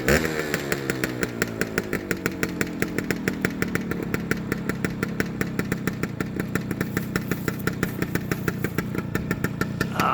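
A small two-stroke motorcycle engine runs steadily and close by, with a buzzy, rapid popping idle that holds an even rhythm throughout.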